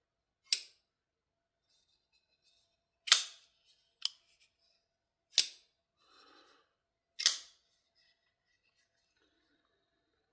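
Todd Begg Bodega folding knife snapping open and shut, five crisp metallic clicks with a bright ring, spaced a second or two apart in near silence with no talk.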